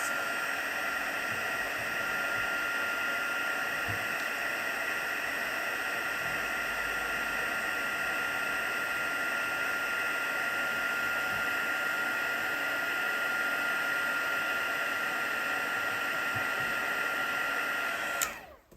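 A steady, loud blowing hiss of a heat embossing gun runs unbroken for about eighteen seconds, then cuts off abruptly at the end.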